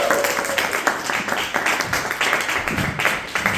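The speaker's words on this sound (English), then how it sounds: "please start clapping for Harshit" A comedy club audience claps and cheers for a comedian stepping up, a dense, steady patter of hands from a crowd close by, with scattered whoops and a voice heard through it.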